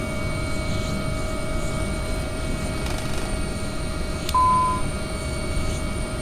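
An airplane engine drones steadily in a flight simulator video game, a constant loud whirring hum with a steady tone and no breaks, briefly joined by a short beep.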